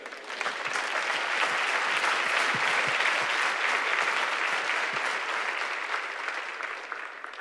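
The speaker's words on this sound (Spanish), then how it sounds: "Denle un aplauso al Señor." Sustained applause from a church congregation during a prophetic teaching session, a dense, even wash of many hands clapping that swells and fades over several seconds with almost no talk.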